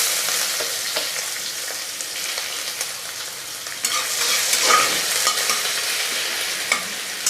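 Onions frying in oil with whole cumin and a bay leaf, cooking for a silver fish curry with curry leaves: a steady close sizzle and crackle, with the clatter of a spoon stirring through it and a louder burst partway along.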